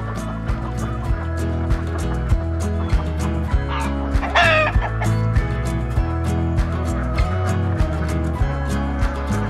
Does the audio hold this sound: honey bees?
no